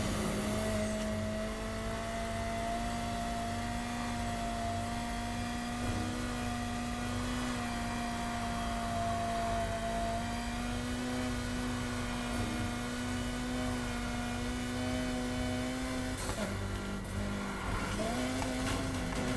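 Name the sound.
Lotus Exige S 2006 racing engine in Need for Speed Heat video game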